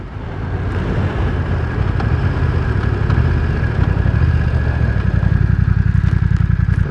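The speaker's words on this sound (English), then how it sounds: "It is still a 900cc motorbike, but it's quiet." A BMW F900 R 900cc motorcycle engine hums steadily at speed, fairly subdued beneath heavy wind rush, with a rapid rhythmic pulsing emerging toward the end.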